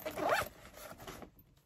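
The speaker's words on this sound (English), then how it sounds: "Little zipper in the front, little water bottle pocket." Small front zipper on a backpack pulled open or closed in one quick rasping run, close and clear, then fading to quiet.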